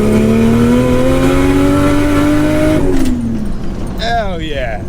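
A Nissan Patrol with an RB28 turbo engine and high-mount external wastegate revs loud and close, its droning tone climbing then dropping off, followed by a fluttering, whistling turbo release.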